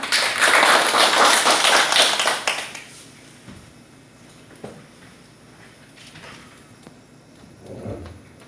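An audience at a seniors' class claps loudly and densely for a couple of seconds. The applause then dies away, leaving a quiet room with a few scattered knocks and thumps.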